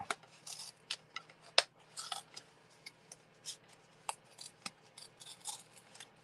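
Glued paper panel being peeled off a handmade fun-fold card: a string of sharp, dry ticks and short tearing crackles, quiet and close, scattered irregularly with brief pauses and no talking.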